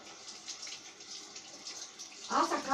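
Water runs from a sink tap while a knife is rinsed, a thin steady splashing stream with a clatter and louder gush near the end; a voice talks over it.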